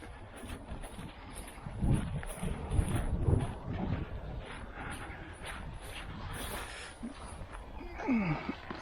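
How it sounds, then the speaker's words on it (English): Gusty wind buffets the microphone during a tailsitter drone test flight in windy conditions, a steady low rumble swelling in a few stronger surges, with faint talk beneath it. "Gust of wind blew us over."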